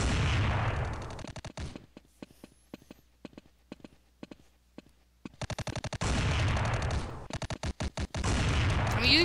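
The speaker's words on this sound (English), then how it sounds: "I'm using a sniper rifle right now." Sniper rifle gunfire in the video game Block Force, heard as dense bursts of loud, sharp shots at the start and end with sparser isolated cracks in between.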